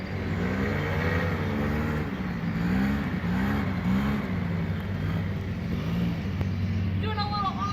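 A 50cc Mini Rex mini bike engine runs flat out at top speed, a loud, close, buzzing drone whose pitch rises and dips over several seconds, with a voice talking over it.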